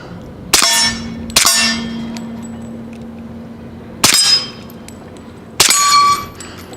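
HK Mk 23 .45 ACP pistol fired at steel targets, four loud sharp shots each followed by a ringing metallic clang, two in quick succession and then two more after longer pauses.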